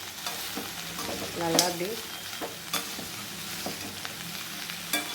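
Okra fry being stirred in a pan after chilli powder is added, with a steady sizzle and scraping stir strokes throughout; a voice speaks briefly over the cooking.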